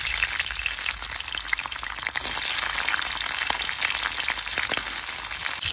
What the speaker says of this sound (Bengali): তেলটা গরম হয়ে গেছে, এবার আমি কেটে রাখা কাঁকড়াগুলো দিয়ে দিচ্ছি।